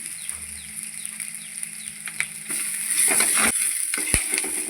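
Shallots sautéing in a pan for Thiruvananthapuram-style chicken thoran, giving a steady close sizzle that grows louder partway through, with a few scrapes of stirring and a low hum underneath.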